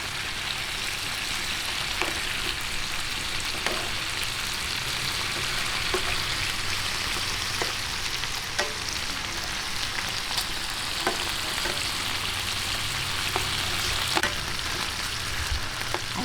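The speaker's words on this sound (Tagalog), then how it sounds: "ganito lang po yung gagawin nating pagpiprito" Pork ribs frying in a pan, a dense continuous sizzle and crackle with scattered pops of spattering oil, close and steady throughout with no talking.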